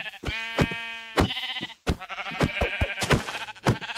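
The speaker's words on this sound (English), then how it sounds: "Right now, right away, we got sheep." Repeated sheep bleats from the video game Minecraft, several wavering calls in quick succession, loud and close with short gaps between them.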